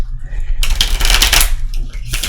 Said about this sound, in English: I'm going to shuffle a little bit more up in here.